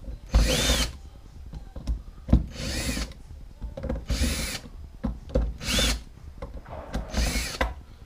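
A power drill runs in five repeated bursts, spinning bolts out of a bicycle wheel hub set on a counter; each whirring spell lasts under a second with quieter handling clicks between, close and loud.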